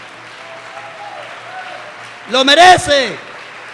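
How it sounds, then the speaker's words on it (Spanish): A church congregation applauds in a steady, rushing wash of clapping that runs throughout, while a preacher's loud voice rises over it partway through. "Apláudalo con ganas."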